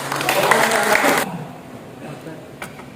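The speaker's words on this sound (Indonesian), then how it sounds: "Kita tepuk tangan sekarang boleh." Audience clapping at a classroom teaching session: a short, fairly loud burst of applause lasting about a second that cuts off abruptly, then quiet room tone.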